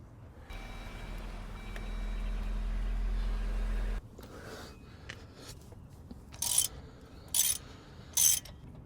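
A 13 mm 12-point socket wrench works a bolt loose: three short, sharp ratcheting bursts evenly spaced near the end, after a steady low mechanical hum that cuts off.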